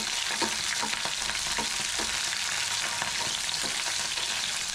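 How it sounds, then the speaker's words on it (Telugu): Sliced onions, three dry red chillies and curry leaves fry in hot oil for a gongura green chilli chutney, giving a close, steady sizzle with scattered crackling pops and no voices. "మనం కట్ చేసుకున్న ఆనియన్స్, అలాగే 3 ఎండుమిర్చి, అలాగే కొంచెం కరివేపాకు వేసుకొని బాగా ఫ్రై చేసుకోండి."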